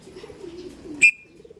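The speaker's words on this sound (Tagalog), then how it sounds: "nagwawala na yung mga ibon na yan" Low cooing from pigeons murmurs throughout, with a single sharp, brief high-pitched call cutting in midway.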